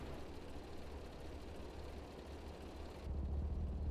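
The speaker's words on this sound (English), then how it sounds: "a really big engine, my Volkswagen." Volkswagen rally car engine idling in a racing video game, a steady low rumble that deepens and grows louder near the end, with no one talking.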